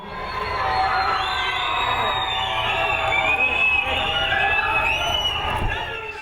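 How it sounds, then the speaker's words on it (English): A large stadium crowd in Wewak cheers loudly for an arriving dignitary at a Pacific Games baton relay event, sustained shouts and whoops with children's high voices mixed in, dense and continuous throughout. "The Grand Chief, Sir Michael Somare, arrived at the stadium in Wewak to huge cheers from the crowd."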